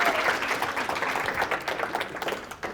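Audience applause at a motivational talk, a dense burst of clapping that rises quickly and then slowly thins out over a few seconds.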